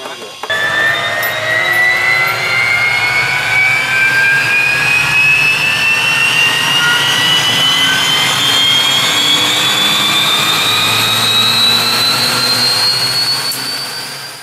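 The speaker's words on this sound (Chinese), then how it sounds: "进行直升机各项检测与升空准备" A UH-1H helicopter's turbine engine spools up during preflight checks at an airfield, a loud, steady whine that climbs in pitch across the whole stretch with a deep rumble beneath it.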